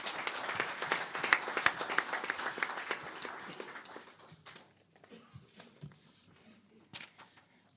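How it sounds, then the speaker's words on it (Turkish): Applause from the audience at a Galatasaray board assembly meeting, a dense crowd of clapping that builds early, then thins and fades into scattered claps. "tekrar bir kuvvetli alkış rica ediyoruz"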